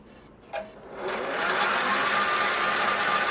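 A South Bend metal lathe turning square stock starts up with a click and spins up to a steady, high whining hum that continues evenly, close and moderately loud.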